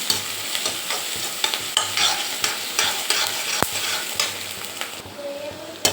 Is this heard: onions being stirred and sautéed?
yes